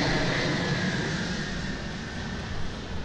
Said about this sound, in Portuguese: Avião de projeção estratégica das forças e meios da Força Aérea Nacional e não só.